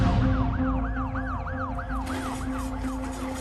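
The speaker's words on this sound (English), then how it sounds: "there was already an ambulance racing to the scene" An ambulance siren wails in a repeating rising-and-falling pattern, fairly faint and steady over low traffic rumble, with no voices.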